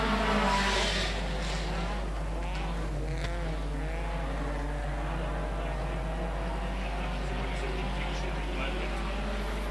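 Stock cars lapping the Border Stockcars circuit at a regional race, a steady droning engine roar with wavering pitch filling the whole stretch, heard from a distance through a window with no break in the noise.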